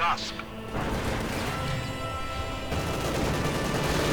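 Dense battle noise from Company of Heroes 2, a World War II strategy game, with continuous gunfire and heavy mortar blasts rumbling loudly throughout, shots overlapping in a steady barrage.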